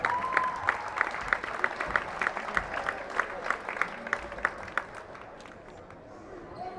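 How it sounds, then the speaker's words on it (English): Crowd applause in a high school gym during a senior night boys varsity basketball game, a steady round of clapping with sharp individual claps, heard fairly far off with ambient hall noise. "Please join me in a round of applause for our game-day staff."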